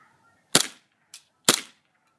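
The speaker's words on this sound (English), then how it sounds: "we're doing the entire length of the backyard with the MP7 with 25 gram BBs and propane" A KWA HK MP7 gas blowback airsoft gun running propane and 25 gram BBs fires two sharp, loud cracks in a backyard, with a faint pop between them.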